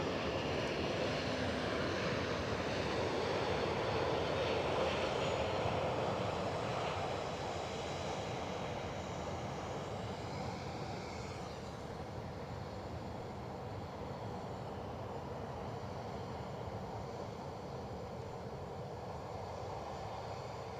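An Airbus A321neo airliner roars steadily at an airport, loud and sustained at first, then easing slightly to a broad, continuous engine wash that carries on alone to the end.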